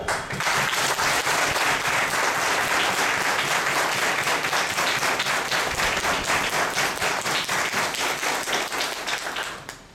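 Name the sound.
seminar audience giving loud applause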